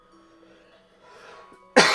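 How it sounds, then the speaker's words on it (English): A single sharp, loud cough bursts out at the very end, after a near-silent stretch with faint background game sounds. "I had to cough there, just random tickle in the throat."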